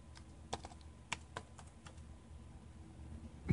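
Typing commands into a Windows command prompt on a computer keyboard: a few quiet, spaced key clicks, fairly faint and close, with no talking.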